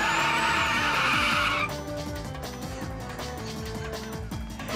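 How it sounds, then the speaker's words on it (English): A spinning wheel on an odd custom-built vehicle running on 24 volts smokes its tire in a burnout, giving a rough grinding whine that shifts pitch midway, loud and close with no talk. "I can make it smoke the tire."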